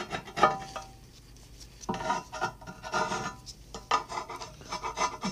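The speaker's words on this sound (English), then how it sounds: "We'll scrape some of this stuff off and then we'll hit it with another coat." Metal tool rasping and scraping softened, chemically stripped paint from cast iron parts, in several separate bursts of gritty strokes up close with short pauses between, no talk.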